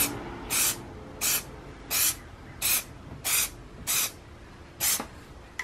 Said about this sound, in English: we're gonna make sure that there's nothing's clogged and it's spraying the proper way, and we're just gonna